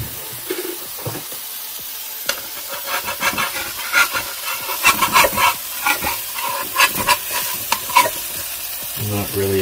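Eggs fry on a Techwood portable 1500W electric hot plate, a steady sizzle and hiss running throughout, with scraping and stirring rubs from a utensil building in the middle and a brief clatter near the end.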